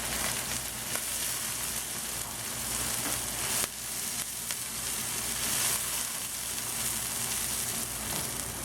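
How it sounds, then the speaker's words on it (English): Onion, garlic and black bean stir frying in oil in a wok for longevity noodles with shrimp, a loud dense close sizzle that holds steady, with a brief dip partway through and no talking. "Put the onion, garlic, and the black bean."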